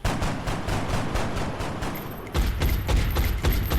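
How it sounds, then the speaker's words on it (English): Rapid reaction gunfire from the turn-based strategy game XCOM Long War, a dense crackling volley of shots that swells louder halfway through, with no talking over it. "Okay, and some reaction fire."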